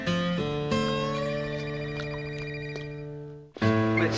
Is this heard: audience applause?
no